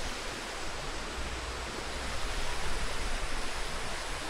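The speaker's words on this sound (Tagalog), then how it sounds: "Sapa na yun, no?" A stream flows beside a hanging bridge in San Mateo, Rizal, with a continuous, even rush of water that stays close and full throughout, with no voices.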